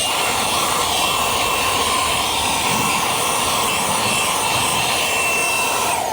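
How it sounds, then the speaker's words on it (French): A 3-in-1 cordless vacuum cleaner runs at speed 3 with a steady, loud, high-pitched whine and airy rush that holds constant throughout, close to the listener and without speech. "j'ai utilisé l'aspirateur ici, sans l'accessoire de petite buse au bout"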